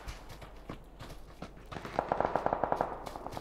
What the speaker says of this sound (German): Hauptsache, man hört halt die UMP, ne?